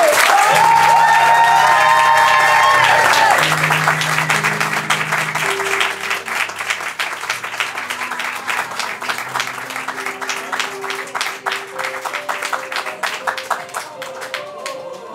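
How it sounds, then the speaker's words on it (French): Audience applause at an improv theatre festival, dense clapping from a crowd starting loud and gradually thinning over fifteen seconds, with tonal music or sound cues playing beneath it. "sous vos applaudissements, on démarre"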